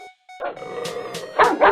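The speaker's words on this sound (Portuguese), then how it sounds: "Qual o somzinho de um cachorro, Felipe?" A toy dog gives a short burst of electronic barks and yips, several quick close bright barks in a row that end with a louder final yap.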